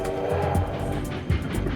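A train rumbles along a steep hill track over old bridges, with low mechanical droning and periodic clanking bursts, fairly close and continuous, in Australia.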